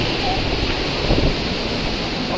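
Water rushes steadily through a canal, a constant roaring wash close to the microphone.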